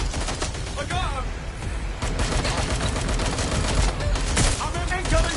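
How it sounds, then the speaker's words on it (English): Dense, sustained incoming gunfire pours in during a fight in the open-world game Watch Dogs Legion, loud bursts overlapping into a continuous crackling barrage with a brief voice cry partway through. "I'm in incoming fire!"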